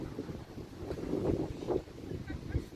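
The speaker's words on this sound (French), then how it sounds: "le vent en fait il souffle fort" Strong wind buffets the microphone beside the Canal du Midi in Béziers, a steady low rumbling roar that swells and fades. A voice talks faintly beneath it.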